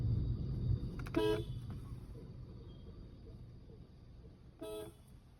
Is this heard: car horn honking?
yes